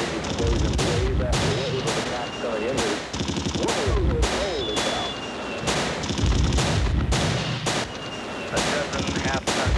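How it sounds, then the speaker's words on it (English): Large airburst explosions with artillery and gunfire at night, loud repeated booms and cracking blasts in rapid succession, with a voice talking over them. "And there's a very bright flash, enormous explosion."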